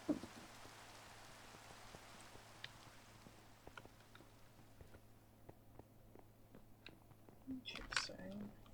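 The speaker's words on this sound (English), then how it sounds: "Been rain since I got back." Steady rain pattering in a Minecraft game world, a soft continuous hiss with scattered drop ticks and faint low hum underneath, with a brief louder rustle near the end.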